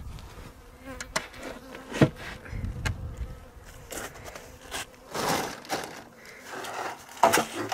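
Honeybees buzzing around an opened beehive in Colorado during a first inspection after winter: intermittent close buzzes rise and fade, mixed with light wooden knocks and scrapes of hive parts, no voices.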